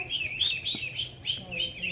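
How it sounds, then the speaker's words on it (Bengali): Rapid high-pitched peeping of small chicken chicks, repeated in quick bursts close by, with faint low background noise and no voices. "মুরগি বাচ্চা"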